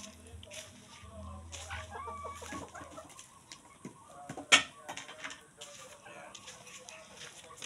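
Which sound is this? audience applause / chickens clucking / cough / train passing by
chickens clucking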